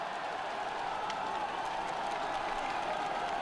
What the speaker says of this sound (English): Tremendous noise from the crowd on the climb here as they push their way to the summit now.